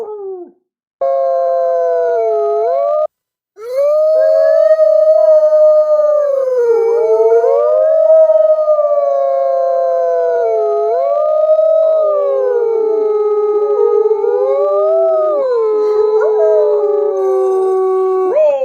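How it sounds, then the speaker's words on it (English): A wolf howls in long, loud, sliding tones that rise and fall, pausing only briefly near the start, with no talking. "Oh, the wolf."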